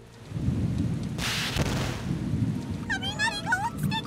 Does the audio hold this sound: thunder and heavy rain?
yes